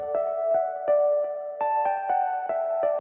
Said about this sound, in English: I have this example here of these guitar harmonics going on.